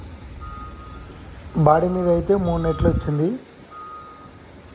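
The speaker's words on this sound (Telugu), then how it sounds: "రివర్స్ హారన్లో ఆ సౌండ్ అయితే మనకు కొంచెం డిస్టర్బెన్స్గానే ఉన్నది" A loaded truck's reversing horn sounds in short repeated beeps, partly masked by someone talking loudly in the middle.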